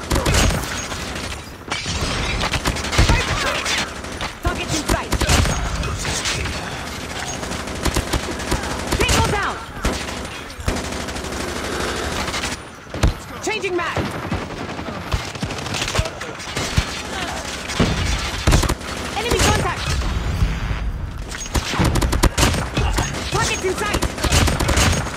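A Call of Duty multiplayer match is full of rapid automatic gunfire and scattered single shots, loud and nearly continuous, with brief gaps between bursts.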